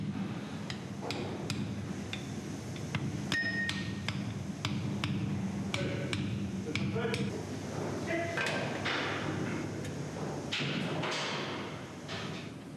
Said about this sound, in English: Both halves are started by hand and then located all the way using a wooden block and a hammer.